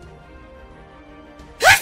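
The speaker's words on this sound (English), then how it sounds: "I make the weirdest noises when I sneeze sometimes." A single loud, explosive human sneeze bursts out near the end after a stretch of near silence, close to the microphone.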